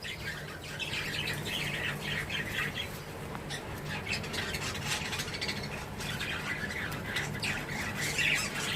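Pet budgerigars in a breeding box squawk and chatter continuously, a dense run of harsh overlapping calls from several birds at close range, with no talking.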